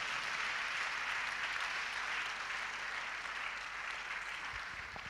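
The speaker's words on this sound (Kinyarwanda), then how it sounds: "mukomere Imana amashyi menshi cyane" Sustained applause from a church congregation fills the whole stretch, a dense, steady wash of clapping at a fairly constant level with no speech over it.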